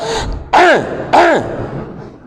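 A voice imitates throat clearing twice, two loud, close, drawn-out rasping ahems with a pause between them and a short noise before.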